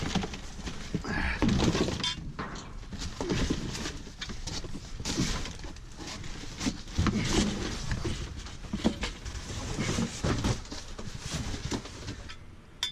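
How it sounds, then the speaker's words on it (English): Scrap pieces of metal and broken glass from a post office dumpster dive are handled and shuffled, producing irregular close thunks, clinks and rattles that keep going throughout. "Pieces of metal, broken glass."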